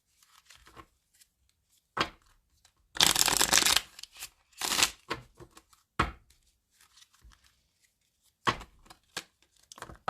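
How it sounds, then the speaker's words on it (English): A deck of tarot cards is shuffled by hand in short riffling bursts and scattered taps, close and crisp, with quiet pauses between them and no voices. "Last shuffle."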